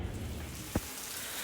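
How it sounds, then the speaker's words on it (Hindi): Heavy rain pouring steadily outdoors in a storm, a dense constant hiss with one short sharp crack partway through, near and moderately loud with no talking. "उफ कितनी बारिश हो रही है"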